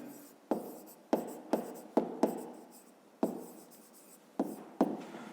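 A pen scratches out a number by hand on paper, a series of about eight short, close strokes, each sharp onset fading quickly, quiet and alone.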